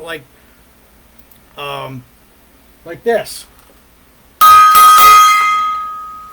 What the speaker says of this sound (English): If the judge hated an act, they would use a large gong to stop the act.